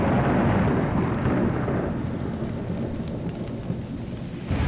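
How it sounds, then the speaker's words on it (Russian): Rain and thunder in the Haunted Memories horror video game: a loud, steady downpour with a heavy rumble of thunder at the start that slowly fades, then a sharp crack near the end. "Опять дождь, опять лес."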